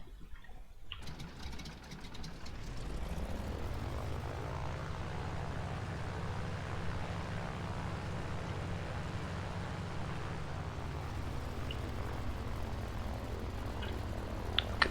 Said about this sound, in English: Look at that beautiful radial engine.